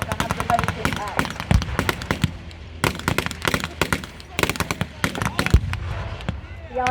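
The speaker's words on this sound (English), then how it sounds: "The artillery begins to land amongst the Germans and inflicts losses on their experienced ranks" WWII Allied artillery fire and shell explosions landing among German positions, sharp repeated booms and cracks in irregular bursts, loud and close, with a voice narrating over them.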